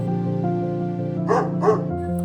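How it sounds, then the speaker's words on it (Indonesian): A cartoon dog in a children's story gives two quick barks in a row over a soft music bed, with no one talking. "membalasnya dengan gonggongan"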